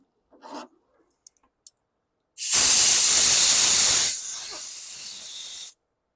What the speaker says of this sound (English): get rid of this foreign material. Compressed air.